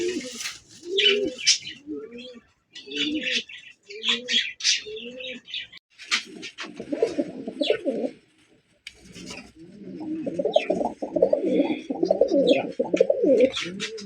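A pair of Tiger Giribaz pigeons coo in repeated, rolling low phrases, close by, joined by higher chirps and tweets in a quiet space with no talk.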